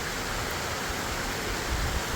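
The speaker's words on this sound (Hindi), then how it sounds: "लेकिन ऐसी बारिश लग रही है" Heavy rain pours in a steady, dense hiss outdoors in a Pahadi mountain village while plants are being set out near a house, continuous and fairly loud with no voices.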